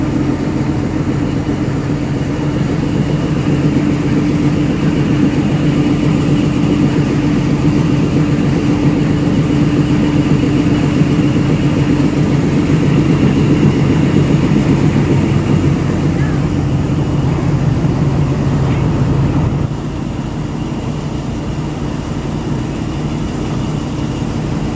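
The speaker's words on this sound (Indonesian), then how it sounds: "Lokomotif yang menarik kita punya gerabak pada hari ini" A steady, droning diesel locomotive hauls passenger carriages of the KTMB Jungle Train, a constant low rumble that runs unbroken for the whole stretch and drops slightly in level near the end.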